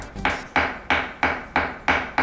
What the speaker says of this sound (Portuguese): como martelar uma parede